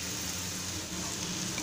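Egg fried rice being stirred in a pan, giving a steady, even sizzle with faint scraping, close and continuous throughout with no voices.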